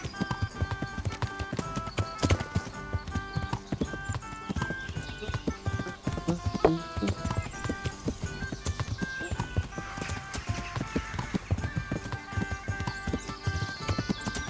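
Hooves of a horse being ridden in the medieval role-playing game Kingdom Come: Deliverance, a steady walking clip-clop that runs throughout, close and even under a layer of game music.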